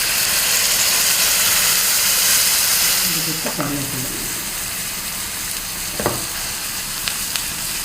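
Fish curry cooking in a pan after thick coconut milk is added, giving a steady broad sizzle and bubbling hiss that softens partway through, with a few light scrapes and clinks.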